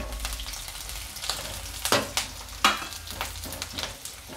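Garlic cloves sizzle with browned onion in a hot pan, a steady crackling fry broken by sharp scraping stir strokes, close and clear.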